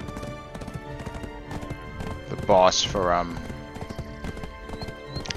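A horse in the Black Desert Online video game stomps its hooves repeatedly on the ground and lets out a loud whinny midway, while someone talks over it throughout.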